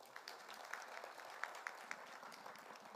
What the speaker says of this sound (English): Come on guys, you have to clap.